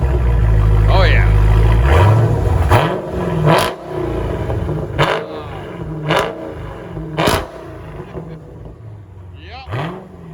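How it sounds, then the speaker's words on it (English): A Dodge Challenger or Charger engine with a mid-muffler delete idles loudly, then revs in several sharp bursts with pauses between, a brief voice heard amid the throttle blips. "just a slightly louder exhaust note when you start it"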